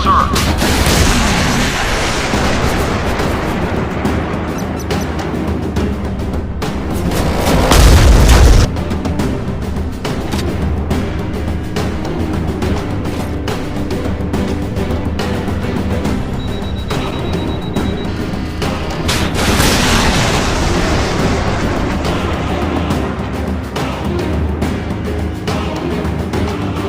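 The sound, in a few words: missile launches and explosions in Modern Warfare video game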